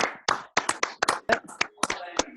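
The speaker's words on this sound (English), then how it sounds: "if you can just do a little clap for all of them" Scattered, irregular claps from a small group of participants applauding first responders, a dozen or so distinct close hand claps of uneven rhythm with voices talking alongside.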